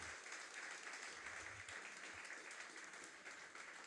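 Steady, dense applause from a church congregation fills the space without a break, loud and continuous with no other sounds standing out.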